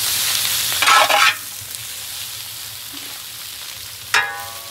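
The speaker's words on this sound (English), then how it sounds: "Got them sausages sweating down" Sausages and onions sizzle and crackle in a hot 100-gallon pot, with two louder bursts of frying as things are stirred or added, then a steady quieter hiss.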